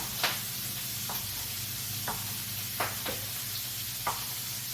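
Steady close sizzling of bacon in a pan, with a few soft clicks and scrapes breaking through the hiss.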